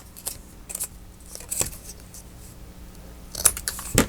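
Scissors trimming 12x12 paper at an angle, giving a few crisp snipping cuts spaced apart in an otherwise quiet room, with a short flurry near the end.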